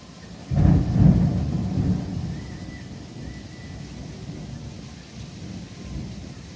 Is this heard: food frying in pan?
no